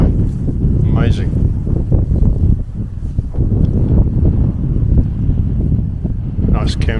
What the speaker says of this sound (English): it's just too windy, so I'll do it somewhere else